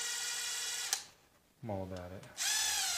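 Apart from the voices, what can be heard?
power drill removing screws on RC car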